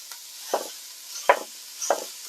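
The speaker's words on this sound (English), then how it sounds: "Half a kilo of lamb mince. We're going to pop that in and break it up with our spoon." A spoon breaks up half a kilo of lamb mince in a saucepan for moussaka, giving three soft, close scraping strokes spaced about a second apart over a faint background hiss.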